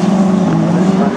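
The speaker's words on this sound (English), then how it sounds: "it's Kev Glidden, the last one running as they get to the last lap" Autograss race cars in a class 5 final at Scunthorpe roar continuously on the last lap, a steady loud engine drone with a strong low hum filling the whole moment.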